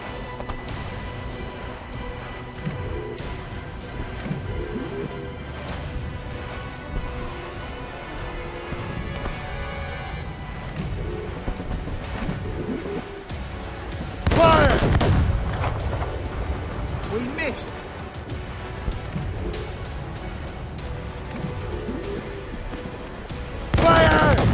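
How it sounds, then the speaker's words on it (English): Heavy ship cannon booms burst out over a busy naval battle din in Assassin's Creed Rogue, a couple of loud blasts standing out among clattering effects and faint voices. "Man the cannons!"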